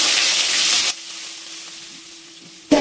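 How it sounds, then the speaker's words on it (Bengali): Chopped medium onion hits hot oil with dried red chilli and whole cumin, a loud, bright sizzle that drops abruptly to a faint simmering hiss before a sharp burst of frying returns at the end. "পেঁয়াজটা একটু ভাজা ভাজা করে নেব।"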